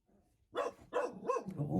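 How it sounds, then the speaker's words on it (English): A small dog barks in three or four sharp bursts close by, following a quiet lead-in, with the barks growing steady toward the end. "Oh, look at this dog."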